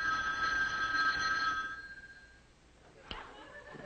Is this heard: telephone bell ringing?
yes